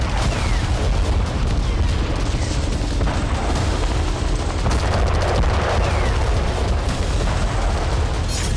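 Combat in Pokrovsk: dense, continuous gunfire with booming explosions, a loud chaotic barrage of rapid cracks and heavy thuds that never lets up.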